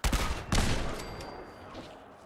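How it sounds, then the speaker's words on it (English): Cannon fire in the video game Fallout 4, heard as two heavy booming blasts close together near the start, followed by a decaying rumble with a faint high tone ringing over it. "Hunting deer with a cannon."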